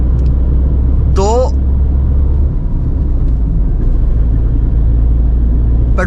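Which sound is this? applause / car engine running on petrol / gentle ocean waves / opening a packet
car engine running on petrol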